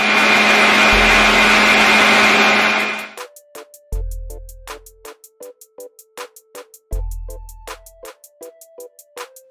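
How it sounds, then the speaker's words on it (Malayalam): A kitchen mixer grinder blends coconut with water in a loud continuous whirr, then runs in short bursts, each start and stop clearly audible, with brief low thuds in between. "ഇനി ഇത് നമുക്ക് മിക്സിയിൽ നല്ലപോലെ ഒന്ന് അടിച്ചെടുക്കണം."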